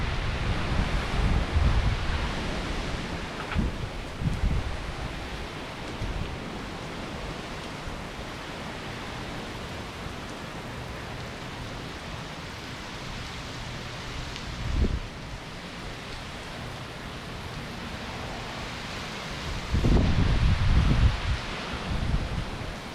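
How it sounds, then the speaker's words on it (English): Heavy rain and gusting wind roar in a dense, continuous wash during Hurricane Laura in Louisiana, swelling louder near the start and again near the end. "The rain continues."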